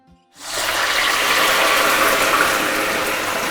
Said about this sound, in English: the reason it's bubbling so much is because of the water content